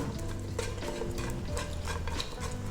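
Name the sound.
stirring caramel popcorn to mix evenly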